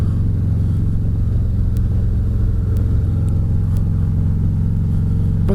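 A motorbike engine runs steadily at idle, a close, loud, continuous low rumble with no revving and no voices.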